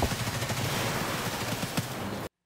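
Gunfire in the video game Escape from Tarkov during a firefight in a kitchen: a dense, steady barrage of shots and noise that cuts off abruptly, loud and continuous with no talk.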